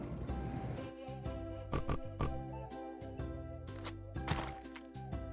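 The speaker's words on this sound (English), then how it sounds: "Where is the pig?" A pig oinks in an animal-learning video game, a quick series of short, close grunts over light background music.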